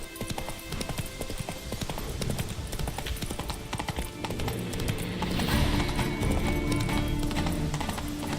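Roach, a horse in The Witcher 3, gallops with steady rapid hoof clip-clop over a busy game soundscape, with an occasional whinny, loud and continuous throughout.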